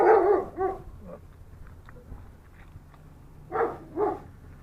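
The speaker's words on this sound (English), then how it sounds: "A big dog." A big dog barks in short doubled bursts, two sharp barks at the start and two more near the end, moderately close with quiet pauses between.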